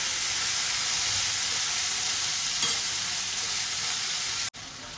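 Okra sizzling and frying in a pan, a loud, steady close-up hiss with faint stirring, continuing unbroken until a brief cut near the end.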